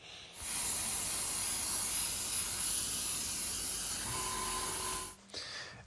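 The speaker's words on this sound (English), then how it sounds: "Make sure there's color coming out of your gun before it starts spraying." A spray gun blasts colored cocoa butter onto a chocolate Easter egg, making a loud, steady hiss for about five seconds before it cuts off abruptly, followed by a brief softer tail.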